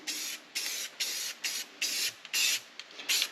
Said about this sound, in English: I'm just using cheap old Walmart Rust-Oleum.